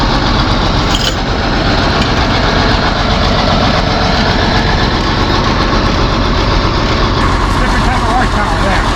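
A large tile drainage machine's engine rumbles steadily, loud and close, a constant heavy drone through the whole stretch, with a voice faintly beneath it.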